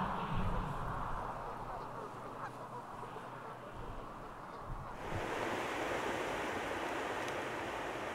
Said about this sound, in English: This is the outflow of the Lac-Qui-Parle Reservoir, which is the Minnesota River.